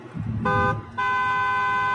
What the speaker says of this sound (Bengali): আরে হর্ন দিতে বারণ করো